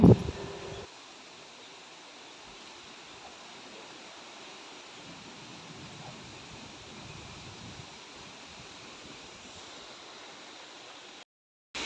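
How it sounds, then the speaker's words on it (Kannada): Strong wind, with rain, rushes through trees including mango trees as a steady, even roar heard alone, with no voices. "ಇಲ್ಲಿ ಜೋರು ಗಾಳಿ ಬರ್ತಾ ಉಂಟು"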